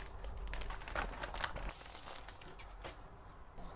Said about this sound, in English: It's still in the wrapper, so I'm going to unwrap it right now.